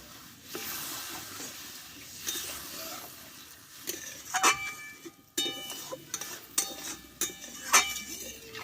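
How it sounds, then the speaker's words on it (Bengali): Spiced aubergine gravy sizzles in a pan as water is poured in, with clinks and scrapes of a utensil against the pan and a bowl, nearby and moderately loud, no talking. "এবার এইখানে আমি কিছুটা জল ব্যবহার করব ঠিক এই বাটিরই আমি দু বাটি জল দিয়ে দেবো"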